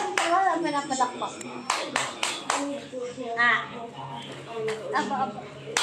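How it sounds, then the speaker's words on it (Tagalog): A baby claps hands in a home while a voice coaxes and chatters over it, a few brief soft claps scattered among the talk. "Palakpak."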